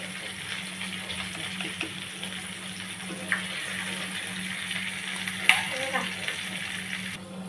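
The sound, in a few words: prawns frying in a pan, second side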